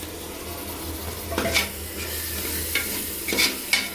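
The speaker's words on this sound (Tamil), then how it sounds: "நல்லா போட்டு கிண்டணும், நல்லா வதங்கணும்." Tomatoes being stirred and sautéed in a pan for chicken biryani, a steady close sizzle with a few sharper scraping strokes of the spoon against the pan, no talking.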